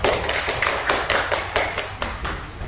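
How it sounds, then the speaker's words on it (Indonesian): Schoolchildren in a classroom clap their hands together in a quick, fairly even rhythm of sharp claps, moderately close, with no talking. "Boleh dulu anak-anak tepuk tangan."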